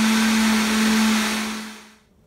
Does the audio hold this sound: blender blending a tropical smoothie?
yes